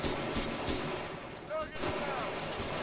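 Gunfire from enemy soldiers in the military shooter game Arma 3: a dense, steady stream of shots and battle noise running throughout, fairly loud, with a brief dip partway through.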